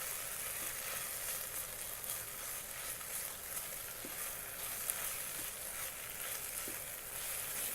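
Ginger paste and garlic paste frying in an Instant Pot for Indian-style curry pasta, a faint, steady hiss of sizzling with a few soft stirring knocks.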